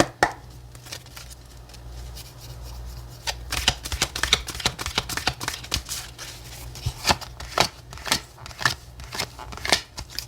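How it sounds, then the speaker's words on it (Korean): Tarot cards are shuffled by hand, close up, in a run of crisp riffling and slapping bursts with short pauses between them, with no talk over the shuffling. "먼저 현재 에너지의 카드를 뽑아보도록 할게요."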